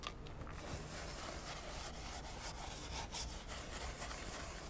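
Brisk scrubbing of a neglected car steering wheel with interior cleaner, a close rhythmic rasp of brush strokes continuing without pause and with no talk.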